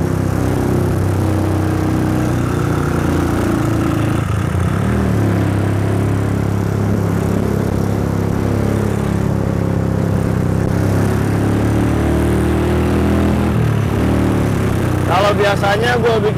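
A custom bobber motorcycle engine runs continuously with a steady low rumble, loud and close, as if riding along.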